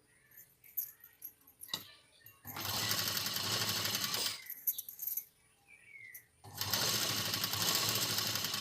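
A sewing machine stitching cross-cut fabric strips, running in two loud whirring bursts of about two seconds each, separated by quieter handling clicks and brief talk.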